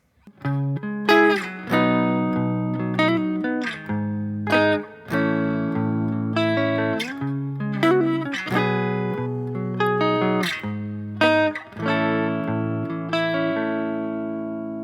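An acoustic guitar picks out a chord progression, plucking single strings one after another so the notes ring and overlap, clear and close with no talking.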